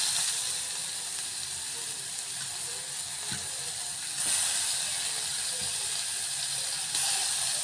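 Chopped vegetables and green chillies fry in a pan for vegetable macaroni pasta, giving off a steady, loud sizzling hiss with a few brief clinks and swells.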